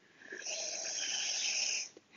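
A deep, breathy exhale during a yoga session, a single long airy rush of breath that swells, holds steady and fades, heard close and alone.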